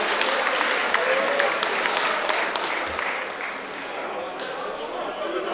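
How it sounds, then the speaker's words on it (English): A crowd at an X-Wing team championship claps and cheers for Spain, with sustained loud applause and a commentator's voice over it. "The big cheer for Spain."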